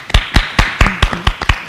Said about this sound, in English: that requires a huge round of applause